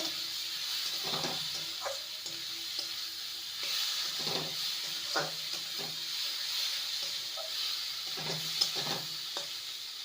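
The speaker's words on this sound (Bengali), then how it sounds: "আলুর টুকরোগুলো দিয়ে ভালো মতন কষিয়ে নেব" Fried potato pieces stirred and sautéed with spices in a pan for an egg and cabbage curry, giving a steady close sizzle with repeated scraping stir strokes throughout, no talking.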